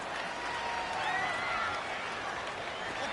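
Stadium crowd noise from a football video game, a steady wash of roaring fans with faint whistles and cheers rising slightly midway, distant and continuous with no talk.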